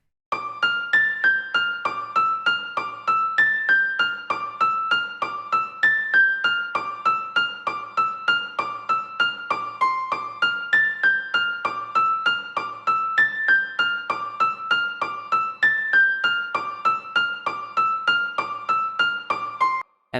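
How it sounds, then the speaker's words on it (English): Soft, melodic piano notes repeat in a steady looping pattern for a hip-hop beat, each note decaying gently, carrying on evenly for twenty seconds without voices. "I wanted to hear something melodic and soft behind it, so I came up with this piano melody right here"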